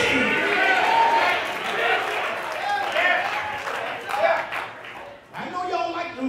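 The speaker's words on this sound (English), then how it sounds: "I know y'all like them hollering." A congregation at a seminary commencement service hollers and shouts during a sermon, a sustained loud crowd roar with scattered clapping and voices rising and falling throughout.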